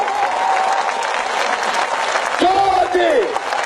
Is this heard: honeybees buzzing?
no